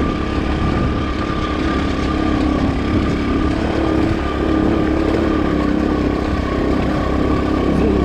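A Racer 110 motorcycle engine runs steadily in fourth gear during gentle break-in riding, a continuous, even drone with a constant pitch that stays loud and close for the whole stretch, with no talk over it.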